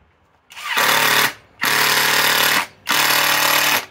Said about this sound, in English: Let's try speed one with a 4-inch timber lock and see what it does.